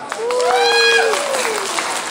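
Applause from an audience at an outdoor stage show during the 2014 folk arts carnival at Banqiao Cihui Temple, a steady wash of clapping with some raised voices or cheers over it.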